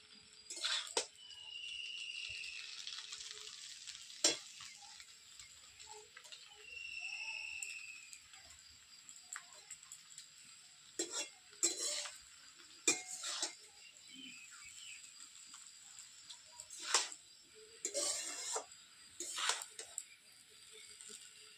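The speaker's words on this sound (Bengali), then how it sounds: "আমি একবার করে নাড়াতাড়া করবো আর সবজিগুলো দিতে থাকবো" Vegetables for paneer veg chowmein being stirred in a pan, with intermittent metal clinks and scrapes of the utensil against the pan over a quiet background, no one speaking.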